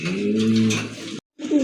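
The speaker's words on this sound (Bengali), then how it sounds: "এটা হচ্ছে আপনার সিরাজি কবুতর" Sirazi pigeons coo in a close, low, throaty run of calls, a breath of silence, then another coo, loud and clear with no talking.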